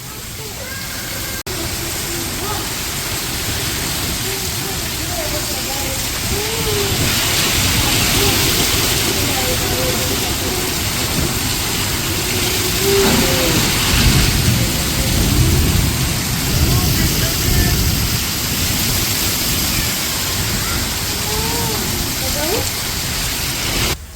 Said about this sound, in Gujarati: વરસાદ રહેવાનું નામ નથી લેતો અપ બંધ વરસાદ શરૂ છે